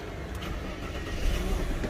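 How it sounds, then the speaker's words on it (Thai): A Mercedes-Benz E280 engine being started with a new remote key, a low steady engine rumble that builds slightly toward the end, heard close by with no talking. "ทดสอบสตาร์ทนะครับด้วยรีโมท ดอกใหม่นะครับ"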